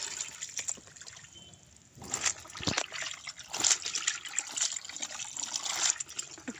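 Water is poured and trickles over new clothes that have been soaked in salt water, rinsing them in a steady splashing stream. The stream swells into heavier gushes partway through, heard close and alone without any voices.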